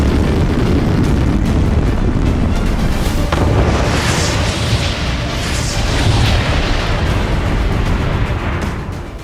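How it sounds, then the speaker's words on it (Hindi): Test launch of a Russian Sarmat missile from the Plesetsk cosmodrome: a continuous loud, deep rocket roar fills the whole stretch, broad and rumbling, fading only slightly near the end, with no voices. "बाइडेन के कीव जाने से 2 दिन पहले रूस ने सरबत मिसाइल का टेस्ट किया।"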